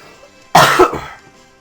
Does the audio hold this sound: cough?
yes